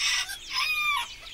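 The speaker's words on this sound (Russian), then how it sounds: "Во дворе курочка с цыплятами и петушок." A hen with chicks and a rooster in a farmyard: hens clucking with the rooster's rising call, several bird voices overlapping in a short, busy burst, fairly close.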